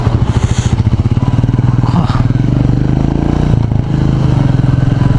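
A 2020 Royal Enfield Meteor motorcycle being ridden, its engine thumping steadily and close with a dense, rhythmic low throb that holds fairly even throughout, with a brief dip in engine note near the end.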